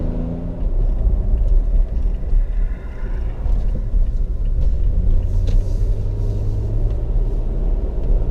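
A Toyota Tacoma pickup truck accelerates hard in first gear with the ECT PWR mode engaged, a loud, close, continuous low engine rumble from inside the cab, with no talking.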